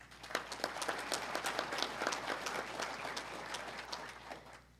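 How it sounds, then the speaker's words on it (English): Audience at a cooperative's annual meeting applauds two newly introduced members, a steady wash of clapping from a room of people with sharp individual claps throughout, moderately loud and unbroken by speech. "So let's give Jordan and Kim a round of applause."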